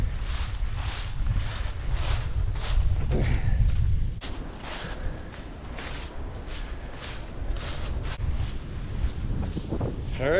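Wind blowing across an open pasture on a farm, buffeting the microphone in loud low rumbling gusts with a rhythmic thudding of footsteps as someone walks, sustained throughout with no talk.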